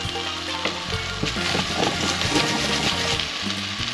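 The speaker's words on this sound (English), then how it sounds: "So our potatoes are gonna go in now." Potatoes fry in a hot, flavoured pan for a fine-dining brunch dish, giving off a loud, steady sizzle with crackling pops and a little stirring, and no voices.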